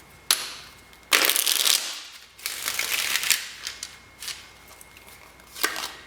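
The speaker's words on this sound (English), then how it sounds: "One more shuffle." Tarot cards shuffled by hand during a pick-a-card reading, heard as several bursts of dry papery riffling and flicking, fairly close and clear, separated by short pauses with no talk.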